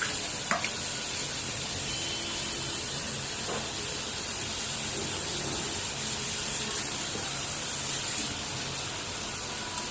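Greens dropped into a hot frying pan during home lunch cooking give a steady, bright sizzle and hiss that runs unbroken, with a few light clinks of stirring near the start.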